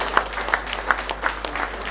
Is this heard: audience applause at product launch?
yes